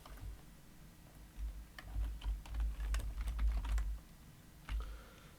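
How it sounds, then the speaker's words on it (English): Keystrokes rattle on a computer keyboard while someone types a command into a router console in a GNS3 network lab, a quick irregular burst of close clicks with a low thump underneath, no talking. "if I try to type something now"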